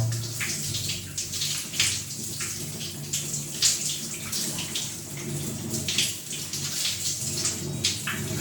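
Water from a geyser-heated tap pours and splashes into a basin close by, a continuous rushing stream with uneven surges.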